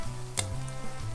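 Eggplant slices frying in hot oil, a soft steady sizzle with a brief crackling burst as a slice is lowered in, close and fairly quiet with no talk.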